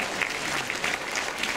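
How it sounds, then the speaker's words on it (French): Applause from the audience at a 2024 Kappensitzung carnival show in Sarre-Union, a steady dense clatter of many hands clapping close by for the whole stretch. "il faut vraiment l'applaudir"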